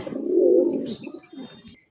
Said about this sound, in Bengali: একজোড়া রেসার কবুতর